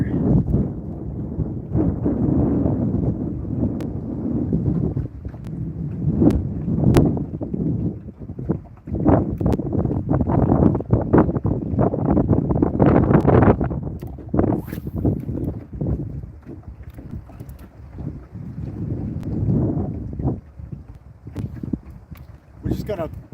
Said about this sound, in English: Wind's blowing pretty good right here